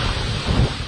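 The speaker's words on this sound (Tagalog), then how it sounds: "Ganito kalakas ang hangin" Strong typhoon wind sweeping over Batanes, a dense, steady roar with a brief swell midway, loud and close to the microphone.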